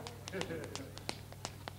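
Tap dancer's shoes striking the floor without music: a run of crisp, irregular taps and heel clicks, close and fairly loud, with a low steady hum beneath.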